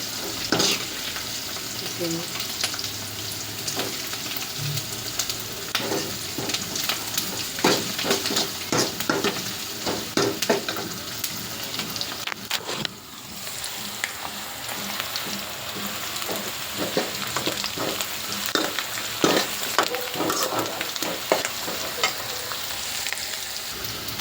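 Dry fish curry ingredients fry steadily in a pan with a dense, continuous sizzle and frequent crackles and stirring scrapes, loud and close throughout, with a brief dip midway and no talking.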